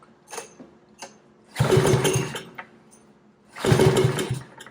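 Small generator engine on half choke sputters with brief pops, then catches in two loud bursts of rough running separated by a pause.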